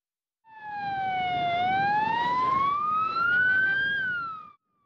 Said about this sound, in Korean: 환자를 실은 구급차가 끝도 없이 이어지는 지진 피해 현장을 신속히 빠져나갑니다.